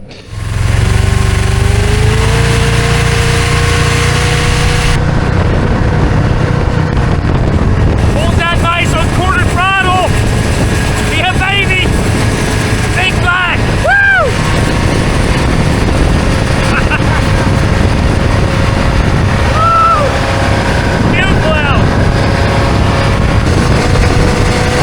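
A 1970s big block jet boat engine idles roughly and loudly, with heavy wind buffeting the microphone. The engine falters and struggles toward stalling, and people talk over it.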